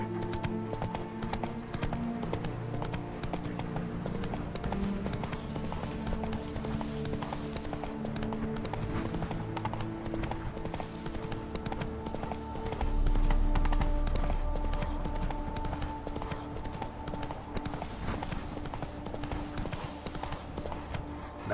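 Roach the horse gallops in The Witcher 3: Wild Hunt, Blood and Wine, with steady, close clip-clop hoofbeats running throughout over faint ambient sound.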